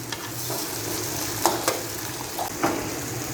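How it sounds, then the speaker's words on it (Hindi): Chicken frying in a pot with whole cumin and black pepper, a steady close sizzle with a few sharp spoon scrapes and clinks as it is stirred, no talking. "अब तकरीबन मैं 4 से 5 मिनट अच्छे से चिकन को फ्राई कर लेती हूँ।"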